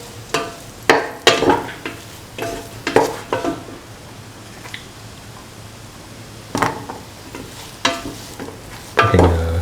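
Cauliflower and bottle gourd being sautéed in a pan, with irregular bursts of spoon-on-pan stirring and scraping over a soft, steady sizzle, close and moderately loud.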